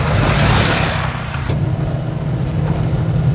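A Bajaj Qute quadricycle driving and gathering speed, its small engine droning loud and steady from inside the cabin with a constant low hum and road noise.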